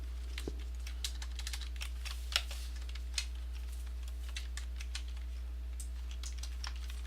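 Steady typing on a computer keyboard, with irregular clicking keystrokes close by over a constant low hum, no voices.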